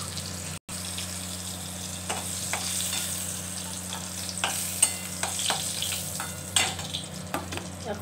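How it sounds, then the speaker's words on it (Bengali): Pointed gourd (potol) slices fry in a pan, giving a steady, fairly quiet sizzle with scattered clicks and scrapes of a spatula stirring, with no voices. "পটল ভাজাটা মনে হয় হয়ে গেছে।"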